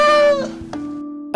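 A cat meows loudly in an animal simulator video game, one drawn-out harmonic call that fades, followed by a quieter tonal hum.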